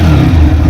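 A TVS Raider 125 BS6 motorcycle engine runs steadily with a low, throaty rumble, loud and close, rising slightly as the throttle is eased open, with no voices.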